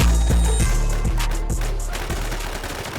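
Rapid bursts of gunfire ring out in the video game WarZ, loud repeated shots in quick succession, fading slightly over a few seconds.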